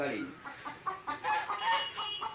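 A hen clucks in a village yard, a run of soft, uneven clucks heard fairly close but quietly, with faint voices in the background.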